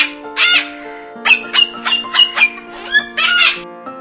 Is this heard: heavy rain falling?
no